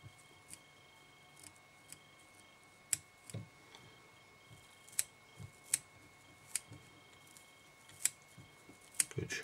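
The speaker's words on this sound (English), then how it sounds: "it's time to trim this down into sort of like a cigar shape" Sharp scissors snip fly-tying materials, trimming hackle and chenille into a cigar shape: a series of crisp, close, irregular clicks and cuts against a quiet background.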